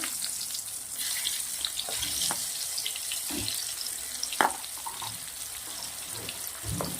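Eggplant slices frying in hot oil in a kadai, a soft spattering sizzle broken by intermittent crackles and a sharper pop, fairly quiet and close with no voices.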